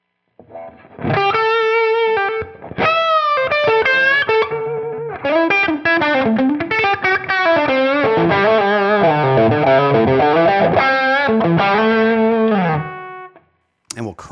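Electric guitar through a $27 Dumble-style overdrive pedal, loud driven lead phrases and held notes that ring steadily for about twelve seconds, then stop abruptly.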